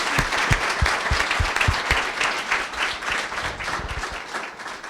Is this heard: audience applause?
yes